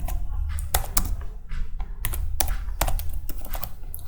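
Rapid clattering keystrokes on a computer keyboard while JavaScript code is entered, close and fairly loud, in bursts with short pauses and a few heavier key strikes.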